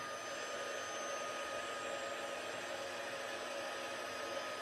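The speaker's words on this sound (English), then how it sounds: "heat emboss the powder" A heat gun melting embossing powder blows a steady, even hiss and whir that stays constant throughout, close and with no talking over it.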